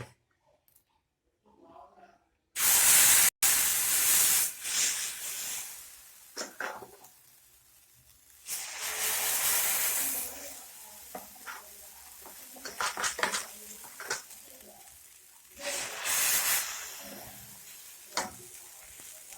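Tomato dosa batter hits a hot pan with a sudden loud sizzle, then keeps crackling in surges alongside scattered clinks of a ladle and pan, with people talking now and then.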